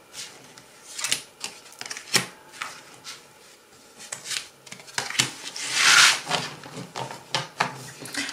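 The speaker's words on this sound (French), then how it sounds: "On va tirer des cartes pour avoir les réponses." Tarot cards are shuffled and drawn by hand, with soft papery flicks, slides and taps coming in irregular bursts, close and fairly quiet, with no talking.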